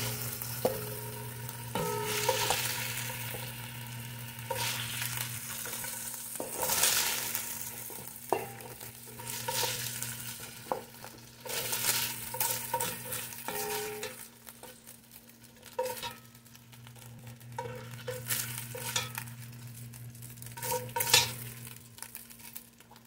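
Vegetables sautéed and stir-fried in a casserole pan, a steady sizzle with repeated scrapes and clinks of a utensil against metal across the whole stretch, close and fairly loud, no talking.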